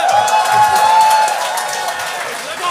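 A comedy open-mic crowd claps and cheers loudly right beside the stage, a dense continuous roar of applause and whoops that stays strong throughout, with some shouting voices mixed in.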